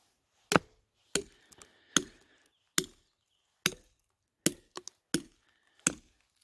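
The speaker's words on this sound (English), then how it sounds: "I'm actually getting pretty significant movement out of the wedges each hit now." A hammer strikes steel feathers and wedges driven into rock to split it, delivering about eight sharp metallic blows at a slow, steady pace, each ringing briefly, with a few lighter taps between, close up and alone.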